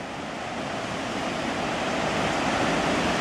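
A river swollen by Hurricane Irene floods over a yard, its rushing water making a loud, continuous broadband roar that swells slightly as it goes, with no speech.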